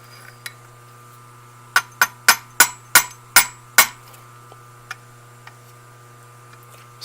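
A piece of metal stock taps an engine part on a Half-breed engine with a drive gear wobble, seven sharp metallic knocks in an even rhythm, then a few fainter clicks over a steady low hum.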